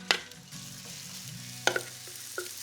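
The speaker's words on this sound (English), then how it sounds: "Now we are going to fry up the spice mix. This is just vegetable oil." Spice mix frying in vegetable oil for a potato and chickpea Malaysian curry, a soft steady sizzle with a few sharp clinks of a utensil against the pan.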